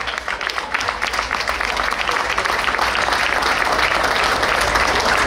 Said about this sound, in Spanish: Ese fuerte aplauso, alcalde.